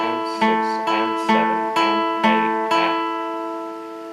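Fingerpicked electric guitar plays the steady repeating eighth-note ostinato from the intro of a song, each picked note ringing clearly over sustained tones.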